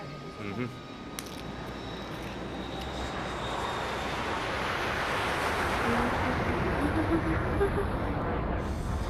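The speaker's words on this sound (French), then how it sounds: "Les avions comme ça vole drôlement haut." Airplane flying, a broad, steady roar of rushing engine noise that builds gradually, heard as if from inside the cabin, with people talking faintly at the start.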